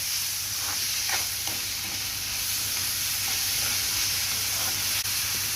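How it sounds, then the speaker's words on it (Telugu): Chicken with salt and turmeric fries in a pan, giving a steady close sizzle broken by light scraping stir strokes. "ఇప్పుడు వేసిన ఉప్పుని పసుపుని ఒక్కసారి బాగా కలిపెట్టేసేద్దాం"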